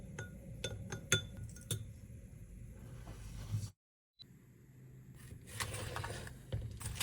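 A spoon clinks against a bowl while soy sauce, dark soy sauce, oyster sauce, water and black pepper are stirred together: a run of bright taps, a brief silence, then more scraping clinks over a low background.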